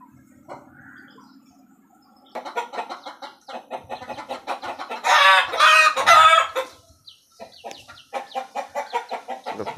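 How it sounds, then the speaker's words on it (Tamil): Chickens in a bird cage shared with a pigeon cluck in short rhythmic bursts, one louder run of squawking calls in the middle, close and clear against quiet surroundings, with no talking. "சென்டரில் புறா இருக்குது, அதை சுற்றி கோழி இருக்குது."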